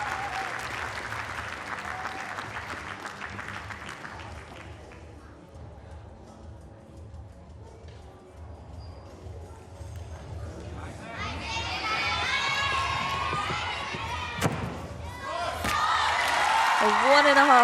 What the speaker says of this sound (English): And there's that loud cheer from her home crowd.